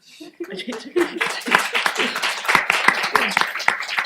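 A small audience at a talk on the history and politics of SNAP gives a short, sparse round of clapping that grows denser, with a person speaking over the start.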